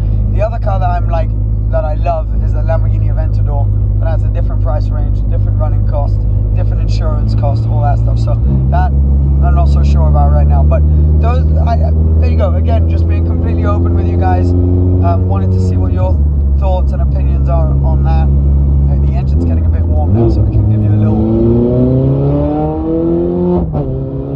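A powerful Ferrari engine revs up and down through several rising pitch sweeps, loud and close, filling the whole stretch with a deep roar.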